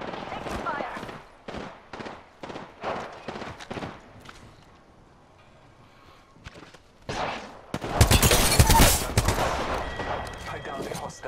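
Rapid bursts of gunfire ring out in the video game Apex Legends, a rhythmic string of loud shots followed by a heavier, denser volley, with game voice lines heard alongside.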